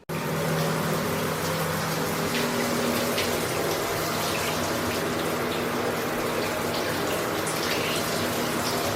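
A shower runs at home, its water hissing in a steady, even rush that carries on unbroken from start to finish with no voices over it.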